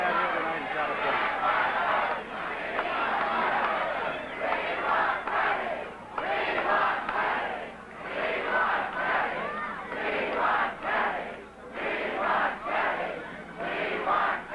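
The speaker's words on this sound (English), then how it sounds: "once this crowd quiets down, we will hear from Senator Kennedy" A large crowd cheers and shouts at Senator Robert F. Kennedy's California primary victory rally in 1968, a loud, continuous roar rising and falling in waves throughout.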